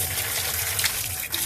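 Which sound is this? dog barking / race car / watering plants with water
watering plants with water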